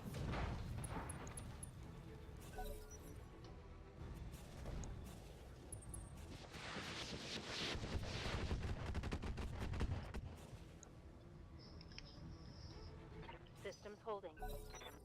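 Weapon fire in the Roguetech mech battle video game: repeated gunshots, cannon bursts and rattling automatic fire, punchy and close, with a voice talking over the action.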